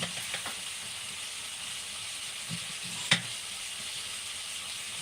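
Food frying in a home kitchen pan, a steady close sizzle with soft stirring scrapes and one sharp clink partway through, no voices.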